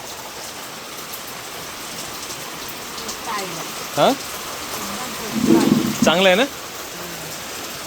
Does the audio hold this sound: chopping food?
no